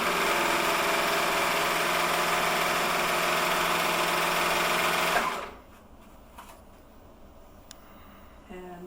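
A serger sewing machine runs a rolled hem at a steady, loud, close hum for about five seconds, then stops abruptly, leaving quiet room tone with a few faint taps.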